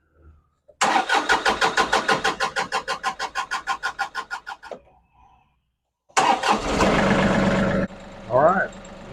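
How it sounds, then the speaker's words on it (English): A diesel engine cranks in a long rhythmic run of starter pulses, stops, then catches and settles into a steady idle with its fuel lift pump running, close and loud, followed by a brief spoken remark. "my lift pump just changed tone. That really sounds more like it's supposed to."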